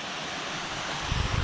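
Waterfall along a mountain trail during a 50K trail race, a steady broadband rushing roar of falling water mixed with wind, with a deeper rumble swelling near the end.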